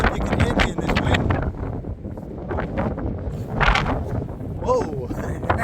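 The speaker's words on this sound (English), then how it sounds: "I don't know if you can hear me in this wind." Strong coastal wind buffets the microphone at Fleetwood, a loud continuous rumble with gusting swells throughout, and someone talks over it.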